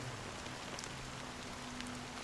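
Steady, dense rain falls in a Honkai: Star Rail cutscene, a continuous even hiss with a few faint drops standing out, no voices.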